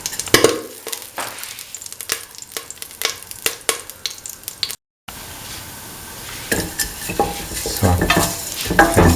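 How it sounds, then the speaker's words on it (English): Fennel seeds and mace sauté in a hot pan with a crackling sizzle and frequent loud scrapes and taps of a spoon, cut by a brief silent gap. "saute the fennel and the mace together."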